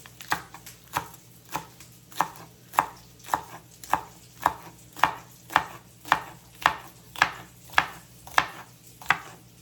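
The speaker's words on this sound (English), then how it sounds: "I'm gonna do a couple of these green onions. I'm just gonna trim them up real quick." A knife chops trimmed green onions on a cutting board in steady, evenly spaced strokes, about fifteen crisp close knocks over ten seconds with no talking.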